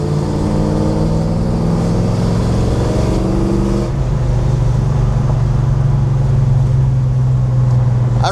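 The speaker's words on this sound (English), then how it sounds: "There's something about the sound of a big block Chevy." Deep, loud exhaust note of a 1966 Chevrolet Chevelle with a 454 big block V8, long tube headers and Flowmaster mufflers, rumbling at idle, then a rev shifts the tone midway before it settles into a steady, throaty drone.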